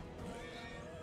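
A horse neighs in a video game with a short, loud whinny mixed with game noise, heard up close for about a second.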